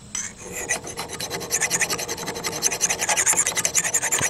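A hand file rasps across a hay mower blade in short, quick strokes, close and steady, the scraping rhythm quickening and growing louder toward the end.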